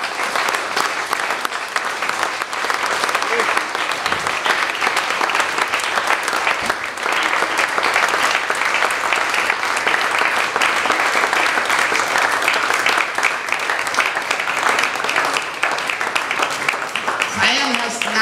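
Sustained, dense applause from a large audience at an outdoor market festival fills the whole stretch, steady and even throughout.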